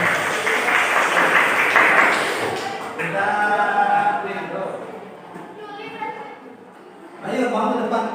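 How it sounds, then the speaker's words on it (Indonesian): A classroom group claps together in a short energetic burst, then chatter and talking follow, with a second brief round of clapping near the end. "Ya semangat, tepuk tangan dulu."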